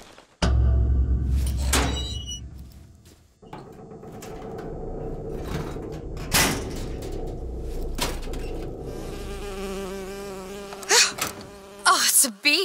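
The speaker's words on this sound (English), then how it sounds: "Oh, it's a bee. I hate these things." Buzzing bee in BioShock Infinite, a steady insect drone hovering close through most of the stretch, broken by a few thuds and game effects, with no talk over it.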